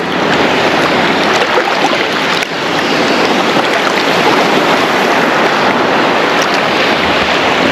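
Waves crashing on a Florida beach shore, heard as a loud continuous roar of surf and rushing water close by, with no voices.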